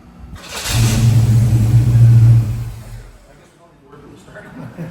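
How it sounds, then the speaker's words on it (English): A carbureted car engine, just tuned, cranks and fires up, then revs loudly in a strong steady surge for a couple of seconds before settling back toward a quiet idle. "but I want to make the car start also"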